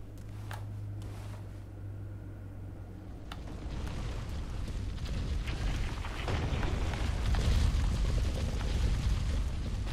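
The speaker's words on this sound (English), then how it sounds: "I hear that boulder." Heavy stone boulder rolling in Dark Souls 3, a broad low rumble that builds steadily and grows louder over the span, with a few sharp clicks early on and a steady low hum at the start.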